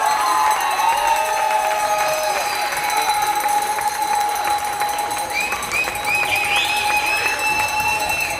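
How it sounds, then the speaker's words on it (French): A crowd at a youth gymnastics results ceremony claps and cheers loudly and continuously, with shouts and whistles in a large hall. "On peut les applaudir bien fort"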